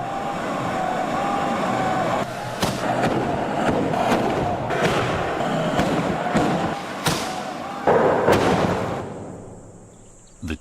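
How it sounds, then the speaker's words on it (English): Tezutsu Hanabi, traditional handheld bamboo tube fireworks at a town festival in Mikkabi, Japan, roar continuously with several sharp bursts and thuds. A crowd murmurs underneath before the roar dies away into quiet at the end. "The Tezutsu Hanabi, fireworks which have shown off the courage and bravery of the men of the town for over"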